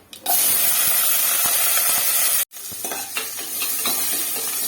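Small shallots hit hot oil with cumin and a dried chilli in a pan for idli sambar, giving a loud continuous sizzle and hiss with brief stirring scrapes and a short pause partway through.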